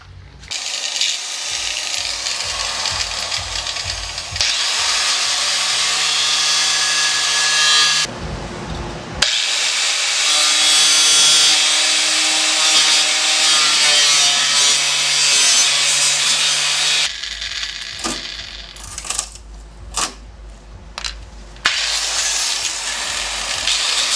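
Power tool loudly cutting through parts on an Evo to clear 275 tires, a continuous harsh grind with short pauses near eight and seventeen seconds, then broken into choppy bursts toward the end.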